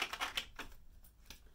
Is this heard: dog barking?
no